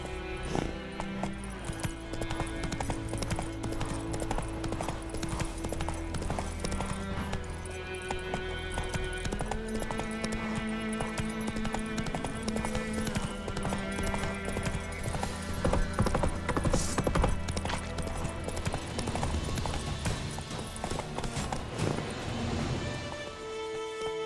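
A horse gallops across open country in The Witcher 3, its steady hoofbeats running the whole way beneath a full, continuous layer of game music.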